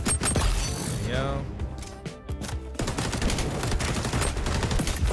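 Rapid bursts of gunfire from the XDefiant online shooter game, dense and continuous through a busy match mix, with a brief dip in the middle before the firing resumes loudly.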